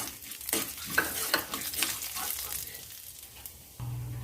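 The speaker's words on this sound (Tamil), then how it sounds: "எண்ணெய் கொஞ்சம் சூடானதும் கொஞ்சமாக உளுத்தம்பருப்பு கொஞ்சமாக கடலைப்பருப்பு ரெண்டும் கொஞ்சம் பொன்னிறமாக வரட்டும்" Urad dal and chana dal crackle and sizzle in hot oil in a pan, under a broad, even hiss. Repeated scraping stirs come in irregular bursts, and there is no voice.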